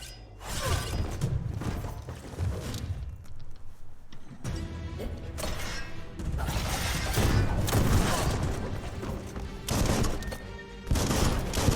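Bursts of rapid gunfire crackle and clatter in the action game Biomutant, mixed with impacts and shattering sounds, loud throughout with short lulls between volleys.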